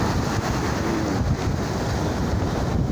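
Typhoon Falcon drives whitecapped surf onto a beach in San Jose, Occidental Mindoro, a steady roaring wash of waves blended with gusting wind buffeting the microphone for the full stretch, with no voices.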